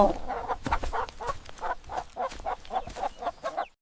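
Chickens cluck in a steady series of short, repeated calls, fairly close, with no talking over them, ending in a brief silence.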